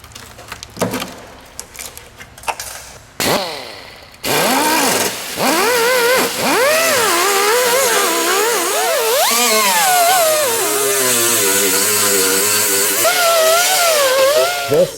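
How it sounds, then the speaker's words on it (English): An angle die grinder fitted with a wire wheel strips rust and paint from car bodywork, its motor whining loud and close, rising and falling in pitch as it bears on the metal after a few brief starts. "I'm going to take this wire wheel, so to speak, on my angle die grinder and clean off as much rust and paint as I can"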